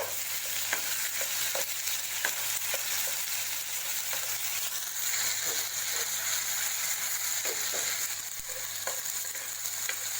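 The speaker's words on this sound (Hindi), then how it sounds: "इसको हम अच्छे से सौते करेंगे।" Steady sizzling of ginger garlic paste sautéing in a hot pan, with occasional light scrapes and clinks of a spoon stirring, continuous and close.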